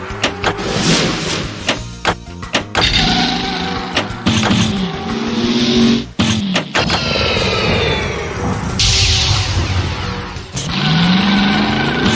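Race cars in the 3D Ultra Pinball NASCAR video game pull into the pits with loud, close engine whines and revs that rise and fall in several sweeping passes, punctuated by sharp mechanical clunks.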